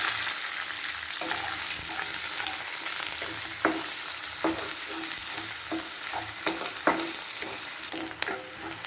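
Onions sizzle steadily in hot oil with fennel seeds and curry leaves, with a broad continuous fry hiss broken by scattered clicks and taps of a spoon stirring the pan, close and moderately loud.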